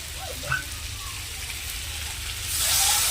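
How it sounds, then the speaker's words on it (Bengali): Water poured into a pan of frying potatoes for a spicy fish curry, a soft background sizzle that swells into a louder, rushing hiss near the end. "এবার জল ঢেলে দেবো"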